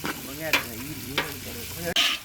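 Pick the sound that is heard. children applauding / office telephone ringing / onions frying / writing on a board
onions frying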